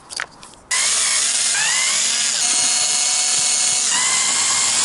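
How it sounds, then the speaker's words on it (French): A power screwdriver loosens four small screws on a KTM Duke 790 motorcycle, whirring loudly and continuously at close range, with its pitch shifting slightly as the screws turn out. "dévisser ces 4 petites vis ici"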